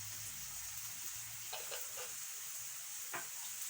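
Garlic and ground spices sizzle softly in a pan while preparing cheesy béchamel pasta, a steady low hiss with a few brief stirring clicks and scrapes, no talking.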